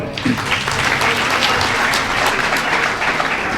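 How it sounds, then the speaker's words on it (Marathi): A crowd applauds loudly and steadily for the winners of a gold lucky draw at a jewellers' event in Pandharpur, with dense, continuous clapping that stays close and full throughout. "आधी त्यांच्यासाठी जोरात टाळ्या वाजू."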